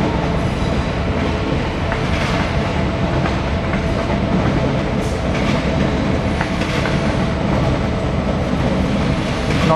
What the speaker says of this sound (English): it's a 9-car suburban train going around the Brisbane loop